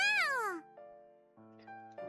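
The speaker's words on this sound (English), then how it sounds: "On my feet, Edo meows happily" A cat in a video game meows happily, one bright rising-and-falling meow up front followed by softer electronic game tones and chimes.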